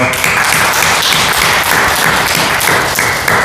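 A church congregation gives loud, dense welcoming applause, many hands clapping at once in a continuous close burst with no speech over it.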